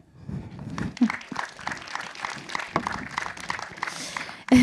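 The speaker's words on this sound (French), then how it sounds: "Vous pouvez l'applaudir" An audience at a public talk on water shortage breaks into applause, a dense patter of many hands swelling and holding steady, with a few thumps and a voice starting at the end.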